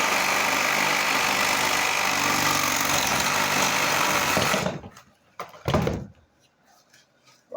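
A reciprocating saw (sawzall) cuts through PVC drain pipe for a vanity drain line: a loud, steady buzzing rasp runs for about four and a half seconds, then stops abruptly, followed by quieter handling knocks.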